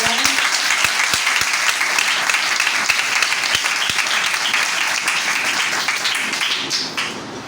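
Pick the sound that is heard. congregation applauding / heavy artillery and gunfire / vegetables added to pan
congregation applauding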